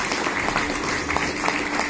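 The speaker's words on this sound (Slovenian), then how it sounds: "še en aplavz torej za Nejca Krevsa" Brief burst of audience applause for the author of the film Med, mleko in nemir, dense overlapping claps filling a short moment, loud and without talk over it.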